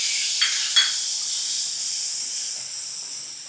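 Tomatoes and red chili powder sizzling in hot oil for a sweet potato curry: a loud, steady hiss with two quick spatters near the start, then a continuous sizzle that eases off slightly.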